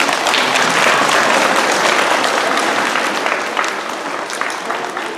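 Loud, sustained applause from a school crowd at an all-school assembly, dense clapping that fills the room and slowly tapers off toward the end.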